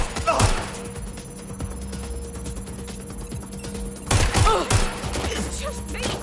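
Gunfire in Watch Dogs: a few sharp close shots, one early and a tight cluster later, over a low steady hum and background game noise.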